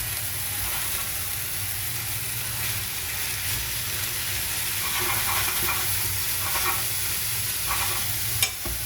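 Pork tenderloin and celery stir-fry in a hot pan, a loud continuous sizzle with a low steady hum beneath and occasional stirring scrapes, ending with a sharp clink.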